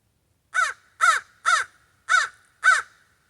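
A crow caws five times, harsh and evenly spaced, each call loud and clear against silence, with no talk.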